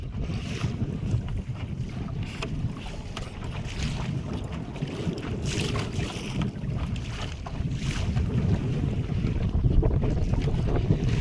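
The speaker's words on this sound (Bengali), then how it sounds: "আজকে কিন্তু প্রচণ্ড স্রোত নদীতে আর সেরকম হাওয়াও আছে ঢেউ হচ্ছে" Strong wind and choppy waves on a river near forest rumble and buffet against a small boat, a continuous loud roar with heavy wind noise on the microphone and no voices.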